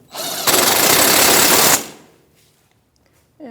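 A 15mm wrench and socket tightening the nut on a rear sway bar link of a 2016–2025 Chevrolet Malibu: a dense, buzzing ratcheting burst for about a second and a half, loud and close, then quiet.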